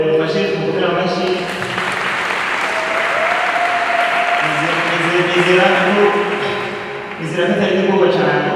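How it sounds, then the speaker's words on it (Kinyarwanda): An audience breaks into loud, sustained applause, a dense continuous clatter of many hands that dips briefly near the end and swells again, with voices talking over it. "mufashe mukomere amashyi"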